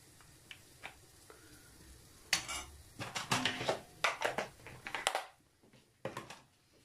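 A frying pan is handled on the stove while butter is added: scattered metallic clinks, scrapes and knocks come in irregular bursts, quiet and close, ending in a couple of soft taps.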